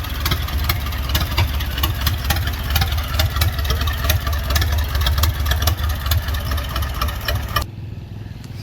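An Allis Chalmers 6-12 industrial tractor engine idles with a close, steady, rhythmic chugging of regular firing beats. The sound thins and changes near the end, with no talk.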